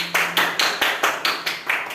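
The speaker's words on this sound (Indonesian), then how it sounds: "Tepuk tangannya dong" Steady rhythmic clapping in a classroom at the close of a micro-teaching practice session, about eight sharp even claps, close and fairly loud, without talking.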